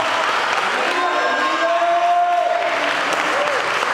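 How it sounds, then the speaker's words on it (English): Church congregation clapping along in steady applause, a continuous dense patter of many hands with some voices and a held tone mixed in from the service. "Somebody get God a hand clap praise today"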